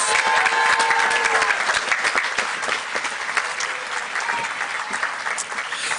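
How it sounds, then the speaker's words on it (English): Audience applause at the Germantown Academy Class of 2024 commencement, a dense, steady crowd ovation that holds loud for the whole stretch and eases off slightly toward the end. "A final round of applause, please, for Kershaw House."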